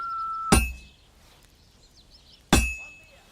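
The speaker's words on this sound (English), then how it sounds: "When I hammer a piece to a beat, the work goes by easier." Two sharp metallic hammer strikes on an anvil at a blacksmith's forge in Kingdom Come: Deliverance II, spaced about two seconds apart, each ringing briefly before decaying, with a faint whistled tone before the first blow.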